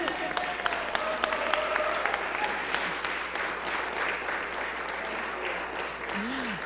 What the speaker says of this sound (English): Now you can clap again further.